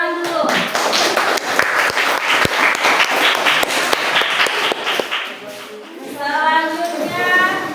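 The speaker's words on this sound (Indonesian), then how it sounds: "Berikan tepuk tangan dulu." A classroom of students clapping for a group that just presented, sharp individual claps standing out in a lively burst that thins near the end as a voice speaks.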